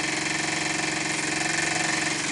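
A Microcosm M1 marine steam engine runs loose on a bench, not fastened down, giving a steady, loud, fast mechanical chatter with continuous rattling vibration and no pauses.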